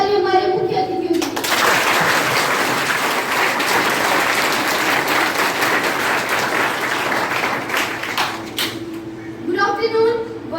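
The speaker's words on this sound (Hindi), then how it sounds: "एक बार जोरदार ताली हमारे मुख्य अतिथियों की" An audience at an anti-drug awareness event gives the chief guests a loud burst of clapping lasting about eight seconds, with speech just before and after.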